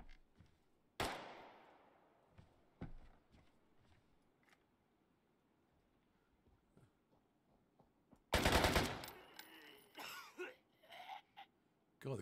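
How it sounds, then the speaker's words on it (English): Gunfire in the Deadside video game: a sharp single shot, scattered quieter reports, then a loud close burst of rapid fire and a few more shots. "Oh, the guns, they change the gun sounds too."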